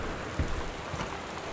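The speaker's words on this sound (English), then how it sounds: "It's raining." Steady rain falls in the video game Gone Home, a dense, even hiss with no talking and a soft thump partway through.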